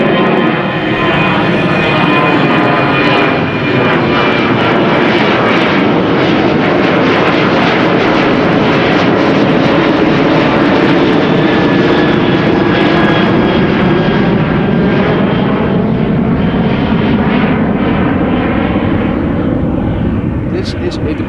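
An airliner departing Amsterdam Schiphol Airport roars loudly and close by, its engine noise sustained and broad for the whole stretch, with a faint whining tone drifting down slowly through it.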